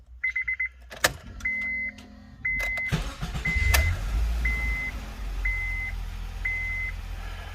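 Inside a 2008 Honda Civic Hybrid, a key turns in the ignition with quick clicks, followed by a steady chime and a series of regularly spaced electronic beeps over a low cabin hum.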